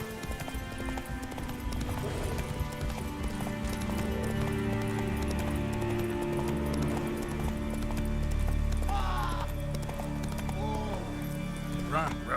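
The horse Roach galloping in The Witcher 3, a rapid steady clip-clop of hooves running continuously under game music and ambience, with a voice speaking over it.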